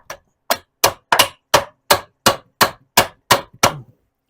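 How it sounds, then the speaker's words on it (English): Eleven sharp, evenly spaced metal hammer blows ring out close and loud while knocking a throw-out bearing off a VW Beetle transmission, each strike a crisp clang with a brief decay. "I want to see if this hammers off before I go heating everything"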